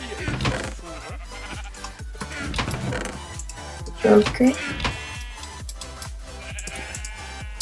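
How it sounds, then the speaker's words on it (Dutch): Sheep bleating in the Minecraft video game, several short nasal bleats standing out mid-way over game sounds while someone talks in Dutch throughout. "De schaapjes komen al mooi naar me toe."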